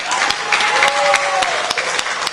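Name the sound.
crowd applause at a rally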